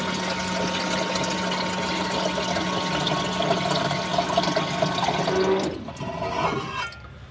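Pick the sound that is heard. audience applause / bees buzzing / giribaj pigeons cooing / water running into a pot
water running into a pot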